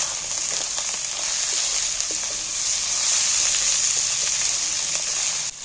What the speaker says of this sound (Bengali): এইবার এটাকে একটু কষিয়ে নেব। এবার এখানে যে টমেটো কাটাগুলো রেখেছি, কাটা টমেটোগুলো তুলে দিচ্ছি।